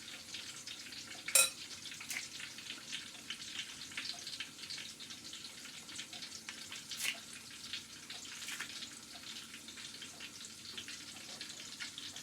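Battered sweet onion rings fry in hot oil in a pot, giving a steady soft sizzle with faint bubbling and an occasional sharper crackle or clink, with no one talking.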